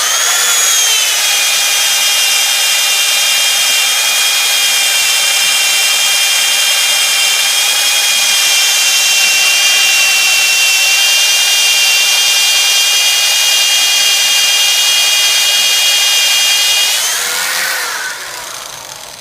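A power drill boring through metal gives a loud, steady high-pitched whine that holds for most of the clip, then winds down at the end, with no voices.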